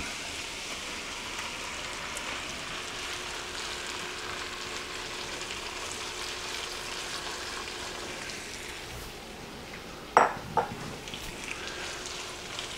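Shrimp going into a hot pan with garlic, over a continuous bright sizzle that holds steady, then a couple of sharp clanks and a short burst near the end, no voices.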